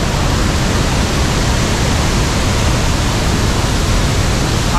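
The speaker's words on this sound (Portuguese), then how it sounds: "vai dar para ouvir bem aqui por causa do ruído da água" Iguaçu Falls waterfall roars in a steady, dense, loud rush of falling water that fills the whole scene without pause.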